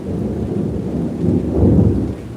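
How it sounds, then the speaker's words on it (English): A deep, continuous rumble of thunder rolls on throughout, swelling slightly toward the end, with a soft hiss of rain beneath it and no talking. "There's some thunder"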